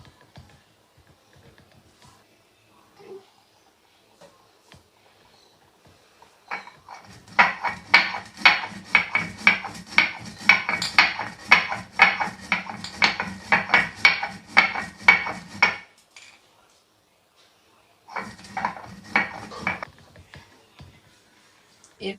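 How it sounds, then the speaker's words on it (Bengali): Dry fenugreek seeds crushed on a stone grinding slab with a stone pestle, a fast, rhythmic grating and knocking that runs for several seconds, stops, then resumes briefly, close and fairly loud. "তো মেথিটাকে প্রথমে গুঁড়ো করে নিচ্ছি"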